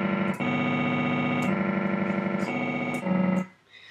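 A rise and fall synth lead made in the Massive synthesizer plays sustained, buzzy distorted notes that change pitch every second or so, loud and alone, ending with a short decay.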